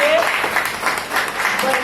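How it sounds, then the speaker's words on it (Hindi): Applause from the audience at a cervical cancer awareness program in New Panvel, heard as a dense, steady patter of clapping that runs under a speaking voice for the whole short stretch. "तो जोरदार तालियां एक बार उसके लिए"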